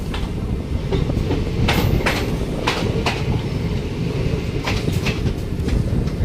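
A passenger train from Bhubaneswar rolls on rails near Bhawanipatna, giving a steady loud rumble with repeated clickety-clack wheel beats over the joints, heard from inside the carriage.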